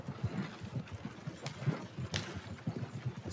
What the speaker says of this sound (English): You can high key drift with a horse and wagon.